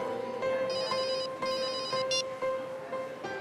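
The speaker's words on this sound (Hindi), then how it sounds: "सर का फोन, बात करोगे?" A telephone ringtone plays in a room in a Hindi crime drama. It repeats a bright, steady electronic melody several times at a moderate level, with no voices over it.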